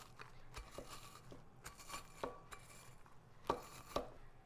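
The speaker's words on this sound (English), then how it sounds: "I took a whole sleeve and I've done half of them already, and I crushed them with a rolling pin." Keebler butter crackers crushed under a rolling pin, giving a run of dry crunching and crackling bursts at an uneven pace, fairly close and quiet with no voices.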